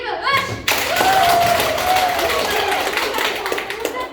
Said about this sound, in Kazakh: Бірінші топқа ендеше дауыспен, шапалақпен дауыс берейік.